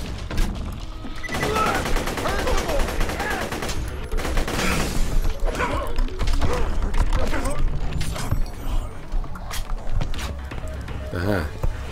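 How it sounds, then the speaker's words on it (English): Gunfire rattles through a chaotic firefight in Borderlands: The Pre-Sequel, with dense bursts and mechanical clatter running throughout while someone talks over the action. "I'm still in the middle of a firefight."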